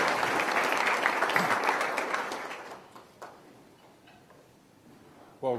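An audience at the Oklahoma Quality Awards Foundation applauds as speaker Bob Pence is welcomed, dense clapping that thins and fades within a few seconds, followed by scattered claps and room noise.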